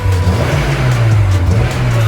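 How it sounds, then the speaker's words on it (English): A high-mileage Honda S2000 engine revs up nearby, a loud rising and falling engine note with a steady low hum beneath, alone without talk. "You want to rev it up?"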